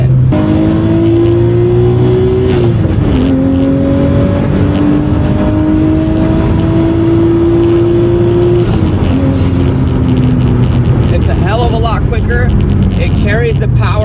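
Nissan Skyline R32 with an RB25 engine and a bigger turbo accelerating hard, the engine note climbing through the revs, dropping briefly at a gear change and rising again, loud and close, with someone talking over it.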